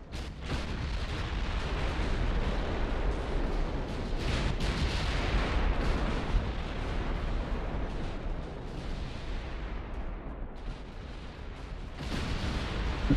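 Continuous heavy naval gunfire and shell impacts from battleships in Ultimate Admiral: Dreadnoughts, a dense, rumbling barrage of booms and blasts that barely lets up, loud and sustained.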